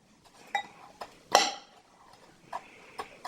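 A spoon stirs a sauce of soy sauce, white rice wine vinegar and brown sugar in a bowl, giving a few sharp, irregular clinks against the side with quiet gaps between them.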